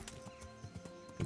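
Horse hooves clip-clop in the medieval game Kingdom Come: Deliverance, a few uneven hoof strikes over a steady background, with a brief louder thump near the end, no talking.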